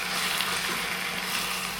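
Boiled eggs fry in hot oil for a gongura egg curry, giving a steady, close, even sizzle with no voices, ending in a brief sharp crackle.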